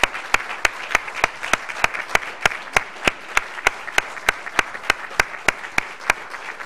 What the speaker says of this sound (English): give them a big round of applause of gratitude